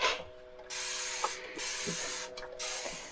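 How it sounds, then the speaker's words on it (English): Dawn Power Wash cleaner sprayed from a trigger bottle in several long hissing bursts separated by short pauses, close and clear with no voices. "So I'm going to actually use some Dawn Power Wash and spray it, let it sit for a little bit."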